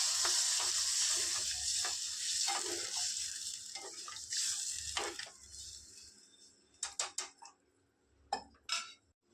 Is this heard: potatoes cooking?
yes